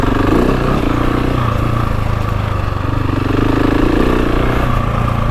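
A GasGas dirt bike's engine drones loud and steady close by while being ridden up hilly terrain, with a constant throaty rumble that swells slightly without pausing.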